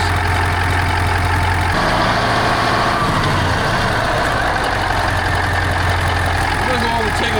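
A 1982 Marmon truck's CAT 3408 diesel engine idles with a steady, loud low rumble that runs unbroken throughout, with a voice talking over it.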